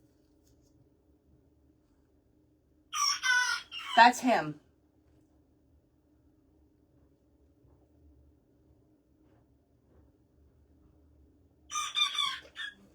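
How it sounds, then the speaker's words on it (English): A pet rooster crows twice, a loud close cock-a-doodle-doo near the start and a shorter crow near the end, separated by quiet, with a voice speaking briefly in the clip. "She just cock-a-doodle-dooed."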